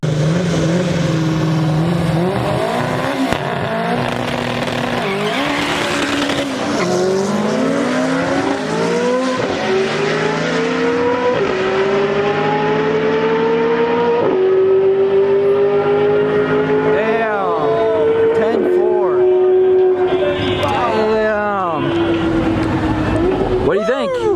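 A loud LSx-swapped Mazda RX-7 race car accelerates down the track, its engine pitch climbing in repeated sweeps between gear shifts, with excited voices talking and shouting over it.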